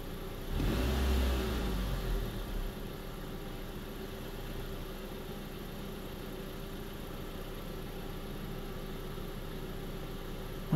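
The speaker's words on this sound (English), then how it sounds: "here's just one tap of the accelerator" A 2004 Nissan Sentra 1.8L engine with an open-loop fault rises in a short rev from a single accelerator tap, then settles back to a steady idle hum for the rest.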